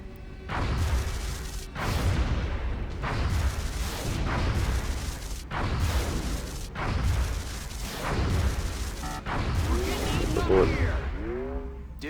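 Interceptor cannons fire at a UFO in the video game X-Com Enemy Within, sending out loud booming bursts roughly every one and a half seconds, with warbling electronic sweeps rising near the end.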